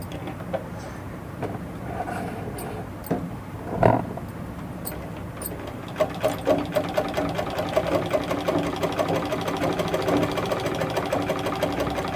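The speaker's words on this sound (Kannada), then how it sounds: "ಇದರಲ್ಲೂ ಕೂಡ ಮಿಷನ್ನು ಸೌಂಡು ಚೇಂಜ್ ಆಗುತ್ತೆ" A sewing machine stitches with green and black thread, starting with scattered clicks and a single louder knock, then settling into a fast, steady mechanical chatter heard up close.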